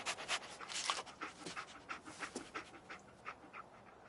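Dogmeat, the dog companion in the video game Fallout 4, pants rapidly and sniffs in a steady, quiet rhythm that continues throughout with no talking.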